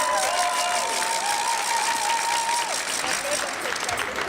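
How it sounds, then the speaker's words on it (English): Applause from people in a gym during a wheel gymnastics event, a dense steady patter of clapping across the hall with a voice talking over it throughout. "You can almost also hear people here in the gym starting clapping at him."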